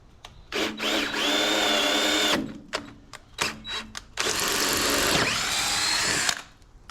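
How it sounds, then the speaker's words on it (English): Power drill boring holes into metal on a 1960s Galion grader under restoration, with short revving bursts followed by two long sustained drilling runs, loud and close. "Gotta drill some holes and ready to go."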